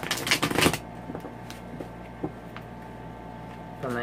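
Steampunk tarot deck from Etsy shuffled by hand, a dense burst of papery riffling for under a second, then quiet room tone with a few small card taps and a faint hum.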